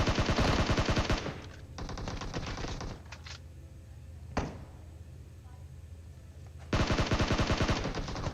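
A SCAR-L assault rifle with no attachments fires in bursts of rapid automatic shots in the mobile game PUBG Mobile. There is a long burst at the start, scattered shots and a sharp crack in the middle, then another dense burst at the end.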